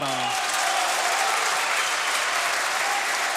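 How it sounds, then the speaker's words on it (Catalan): A crowd applauds at a Valencian pilota match, a youth final played in Alcàsser, with dense, sustained clapping filling the space evenly from start to finish. "Tot el món aplaudís."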